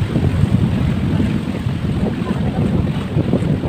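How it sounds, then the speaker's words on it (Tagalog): Wind buffets a boat out at sea in a steady, loud, unbroken rush with low rumbling gusts and no voices. "And medyo mahangin."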